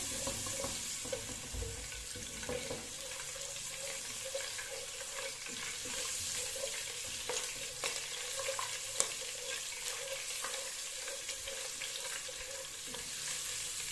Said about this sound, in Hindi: गार्लिक को हमने थोड़ा सा भून लिया